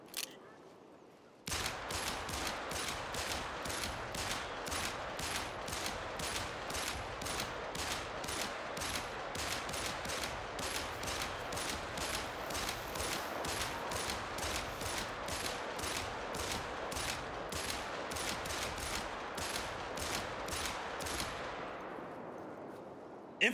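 Nonstop rifle gunfire in the hunting video game The Hunter: Call of the Wild, a fast, even stream of sharp shots that runs for about twenty seconds and then stops abruptly. The shots are moderately loud.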